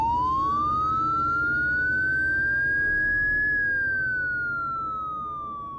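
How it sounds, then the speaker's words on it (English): A single police siren wails in a long, slow rising then falling sweep, loud and steady, with low traffic rumble beneath. "I hear the sound of police sirens from"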